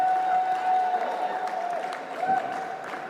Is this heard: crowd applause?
yes